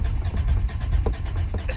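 Mazda 6 car engine cranking without catching, a steady low churning turnover with faint clicks and whirs over roughly two seconds, no voices.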